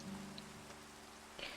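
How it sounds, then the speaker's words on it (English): Steady rain patters on surfaces in a video game world, a faint continuous hiss with a few brief droplet-like ticks, no voices. "so then that way I am not drowned out by the sound of rain"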